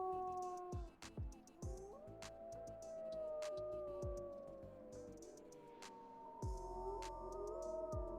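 Wolf howls from the video game WolfQuest, several drawn-out gliding tonal cries rising and falling, overlapping one another with short sharp accents between, steady and fairly close with no talking.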